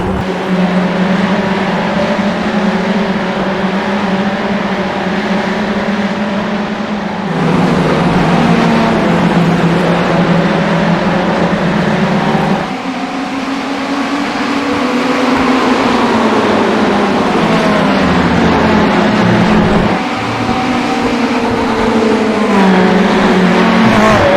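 Ferrari 488 race car in iRacing lapping Watkins Glen, its engine note loud and continuous, rising and falling through upshifts and downshifts with brief dips for braking into corners, no voices over it.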